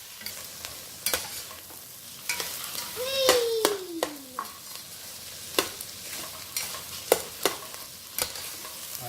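Celery and onions softening in a pot for keto sausage kale soup, giving a soft sizzle under repeated clinks and scrapes of a spoon stirring, with a brief squeaky child-like vocal sound partway through.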